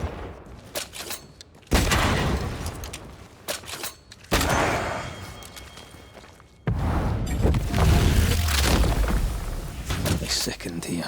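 Gunfire at a light in A Flame in the Dark: heavy bursts of loud shots and booming impacts in three dense stretches, split by short quieter gaps with scattered crackles, in a dark mine setting.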